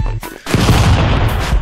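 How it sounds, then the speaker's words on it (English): A shotgun fires in the video game Stick Fight: a short hit comes first, then a loud, dense burst of gunfire that rumbles on with crackling booms, close and harsh, with no voices. "I shot you with the shotgun."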